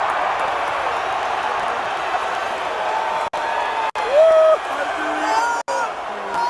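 A stadium crowd cheers and applauds as the president walks out of the tunnel at a game, a steady, loud roar of voices and clapping with a few whistles and shouts rising above it, cut by several brief gaps.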